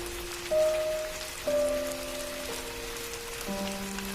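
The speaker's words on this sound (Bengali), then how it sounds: "সেদিন সকাল থেকেই চারিদিকে মুষলধারে বৃষ্টি হচ্ছে" Heavy rain in a Bengali horror cartoon scene pours as a steady, dense hiss for the whole stretch, with soft sustained musical tones underneath and no talk.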